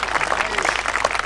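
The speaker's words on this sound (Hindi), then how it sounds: "इस बात पर कमिश्नर साहब तक ताली बजा रहे हैं" Audience applause at a Hindi kavi sammelan (poetry recital), a dense, steady wash of clapping filling the short moment with no spoken words.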